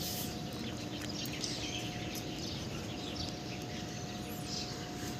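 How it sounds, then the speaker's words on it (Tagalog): Faint chirps and short tweets of birds come and go over a steady outdoor hum and wash of background noise. "Ang ingay ng mga ibon doon, oh."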